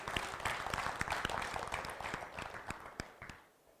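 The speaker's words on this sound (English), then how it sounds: "Let's give her a round of applause, ladies and gentlemen." Faint, distant applause from a TEDx audience, with individual claps audible in a steady patter that fades at the end.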